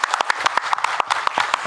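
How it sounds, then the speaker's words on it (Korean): Applause from an audience at a temple-food international symposium, a dense run of sharp, close claps in an irregular rhythm that stays steady and fairly loud throughout. "우리 모두를 위해서 박수 부탁드리겠습니다"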